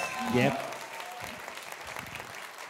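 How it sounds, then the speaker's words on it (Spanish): Applause at a rock show after a band's performance, moderate clapping continuing under a voice speaking briefly near the start. "Más fuerte ese aplauso, por favor"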